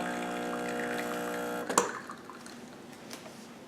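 A Breville Barista Express espresso machine on its single-cup setting drones with a steady pump hum for under two seconds, then clunks and falls to a quieter hiss with faint drips, close and alone.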